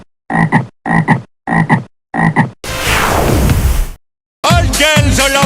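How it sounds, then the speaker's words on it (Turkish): A frog croaks in four evenly spaced, loud, close calls, then a long whooshing sweep and a final burst of layered croaking sounds. "Kurbağa."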